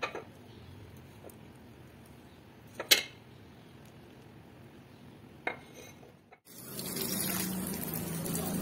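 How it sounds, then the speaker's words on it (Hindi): Water poured from a container onto potted plants, a steady splashing pour starting partway through and continuing to the end, preceded by a few brief clinks and knocks of handling. "पौधों को भी मैं पानी दे रही हूँ"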